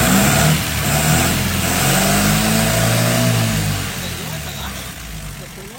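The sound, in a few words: 1932 Peugeot 201 engine revving with the accelerator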